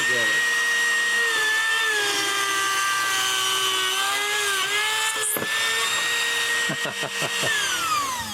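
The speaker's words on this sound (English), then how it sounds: "I drill the hole where the eye screw is going to go" A steady high-pitched power drill whines continuously as it bores a hole for an eye screw, its pitch shifting slightly, with a few short knocks near the end.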